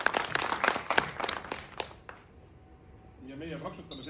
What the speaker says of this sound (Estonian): aga me teeme sulle suure aplausi ikkagi.